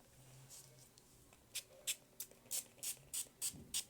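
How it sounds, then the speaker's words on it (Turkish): A hand spray bottle refilled with water mists hair in a run of eight short, crisp hissing bursts, close and fairly regular, after a quiet start. "Gördüğünüz gibi ıslatıyor bu sprey."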